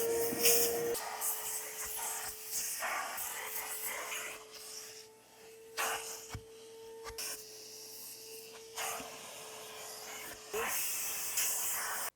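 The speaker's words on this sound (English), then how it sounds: "I just go in and start to do a moderate level of vacuum" A vacuum cleaner works through a car interior, a constant hissing rush over a steady motor hum that swells and dips as the nozzle moves, close and running throughout.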